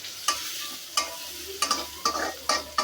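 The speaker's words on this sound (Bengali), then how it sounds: "আমি একটু হালকা ভেজে নিলাম।" Onions frying lightly with turmeric and chili powder in a pan for a village-style fish curry, with a scraping stir about every half second over a steady soft sizzle, close and alone.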